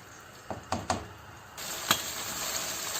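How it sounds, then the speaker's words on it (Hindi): Mutton liver dropped into hot oil to fry over medium heat, a few sharp knocks and pieces landing before a loud, steady sizzle takes over close by. "अब इस कलेजी को हम फ्राई करेंगे ऑयल के अंदर"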